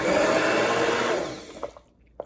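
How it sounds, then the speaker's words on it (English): A blender whirs steadily while blending homemade mushroom soup, used sparingly to leave it a little rough, then cuts out with a few brief bumps and clicks at the end. "This blender I can use when it's warm."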